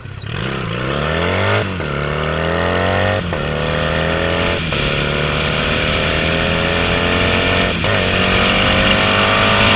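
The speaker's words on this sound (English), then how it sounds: "It sang to life and ran like the day I bought it." Motorcycle engine running steadily on a ride, loud and close, with rising harmonic sweeps as it accelerates through several gear changes, each followed by a brief dip before climbing again.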